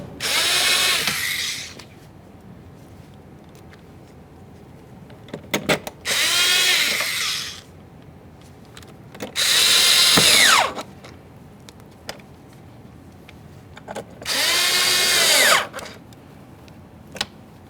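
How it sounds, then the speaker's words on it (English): Power drill driving mounting bolts into a Ford F-150 door panel, four separate bursts of whirring a few seconds apart, loud and close with quiet gaps between. "Start in these mounting bolts as well."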